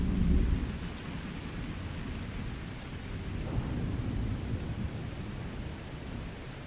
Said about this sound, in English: It's wet because it's fucking raining.